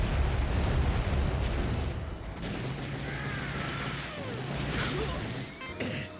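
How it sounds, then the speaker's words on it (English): Very short-range missiles explode in the video game Armored Trooper VOTOMS, a burst of booming crashes and mechanical clatter, loudest at the start and then a rumbling, crackling tail with smaller blasts. "very short-range missiles"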